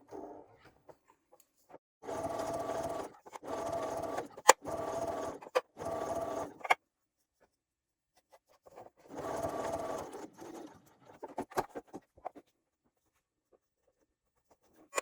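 A sewing machine stitches along the folded edge of a fabric clutch strap, in several short bursts of steady running with pauses between. There are small handling clicks in the gaps.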